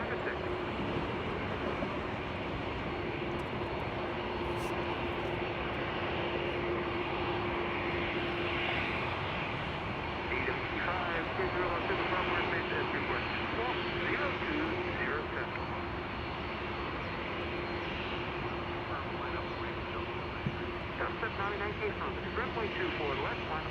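A jet airplane at Los Angeles International Airport rumbles steadily throughout, a broad continuous engine roar with a sustained tone. Radio and air traffic chatter sounds faintly beneath it.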